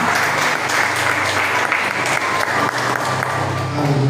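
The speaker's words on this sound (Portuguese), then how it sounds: "E as palmas são com você" Church congregation applauding steadily after a prayer, dense sustained clapping filling the room with a faint voice or two underneath.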